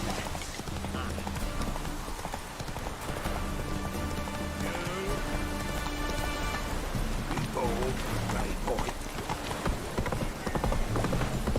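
A horse's hooves clip-clop at a steady trotting rhythm in The Witcher 3 video game, with rain-like ambience and game sounds around them and a voice speaking over the hoofbeats.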